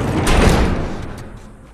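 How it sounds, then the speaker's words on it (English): A heavy door slamming shut and being barricaded in The Last of Us: a loud, close thud and rumbling scrape at the start that fades into a lingering low rumble with a couple of faint knocks. "Barricade the door."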